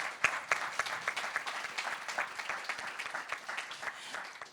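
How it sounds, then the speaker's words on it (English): An audience claps after a panel discussion at a European climate policy event, lively, fairly quiet applause from a modest room, many hands clapping at an uneven pace that slowly thins out. "So I think the round of applause in any case was to all of you"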